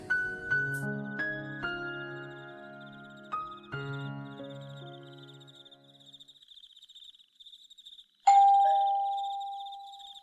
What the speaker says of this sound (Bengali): এমন সময় দরজায় কলিং বেল বেজে উঠল।